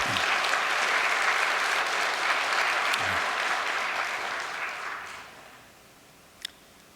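A congregation claps warmly in encouragement and thanks for two families, dense applause that holds steady before tapering off near the end, followed by a single faint knock.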